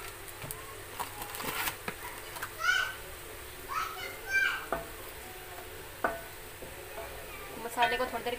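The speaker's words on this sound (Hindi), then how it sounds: "मसाले को थोड़ी देर के लिए भूनेंगे" Kadhai masala spices frying in a pan give a soft sizzle with intermittent stirring scrapes close by, while children's voices and chatter sound in the background.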